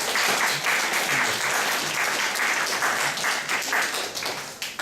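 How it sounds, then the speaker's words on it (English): An audience at a Gwangju International Center talk on French presence in South Korea gives a full, steady round of applause after a Q&A session, the dense clapping continuing throughout. "Let's give him another round of applause for answering our questions"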